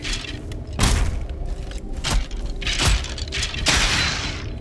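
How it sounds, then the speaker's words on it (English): Booming impacts in the video game Valheim, heard as several heavy thuds with crashing bursts spread over a few seconds, loud and close, with no talk over them. "Double explosion, baby"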